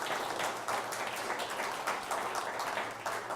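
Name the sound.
audience applause for a city official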